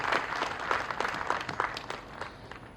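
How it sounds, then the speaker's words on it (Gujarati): At an open session of a community convention, a crowd applauds its trustees with a dense, steady patter of clapping that fades slightly toward the end. "આ ટ્રસ્ટીશ્રીઓ માટે જોરદાર તાળીઓ થઈ ગઈ"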